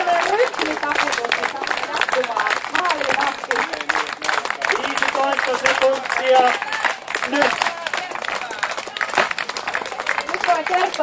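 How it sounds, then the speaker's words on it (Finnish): A market-event crowd at a firewood-splitting contest breaks into sustained clapping, dense and steady, with voices and cheering mixed in throughout. "Otetaan tämmöinen rytmitaputus."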